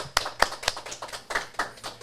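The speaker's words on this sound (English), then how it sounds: "Let's give a hand clap for that." A few distinct hand claps ring out on a podcast set, sharp isolated smacks spaced roughly a quarter second apart, close and moderately loud with quiet gaps between them.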